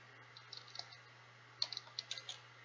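Keys clicking on a computer keyboard while typing into a blank Word document, a quiet, irregular patter of light taps with a short pause before a closer burst of keystrokes.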